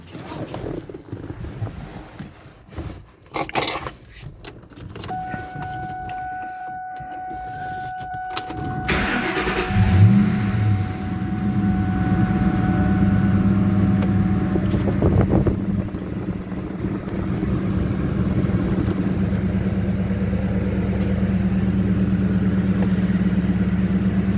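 A 2001 Ford Mustang GT Bullitt engine cranks and starts partway through, then settles into a steady, loud idle rumble that runs to the end.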